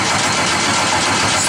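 A race car engine fires up on the starter and catches, a loud, harsh continuous roar close to the microphone.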